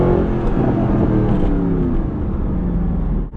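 A Mercedes-AMG cruises on the road in comfort mode, its engine a loud, steady close drone with a faintly climbing tone that cuts off abruptly at the end.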